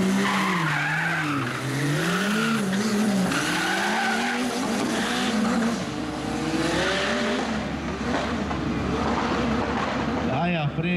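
A drag race car in a DT-C class event makes a loud, rising and falling engine roar with tire squeal as it passes, and an announcer talks over it throughout.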